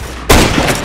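A single sniper rifle shot in the video game Area 51, one abrupt, loud, close boom that holds briefly after a quiet moment.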